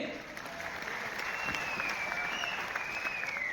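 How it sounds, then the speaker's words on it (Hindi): A crowd claps steadily, a continuous wash of applause with a faint voice over it. "तो जोरदार तालियां दमदार टाइगर टीम के लिए।"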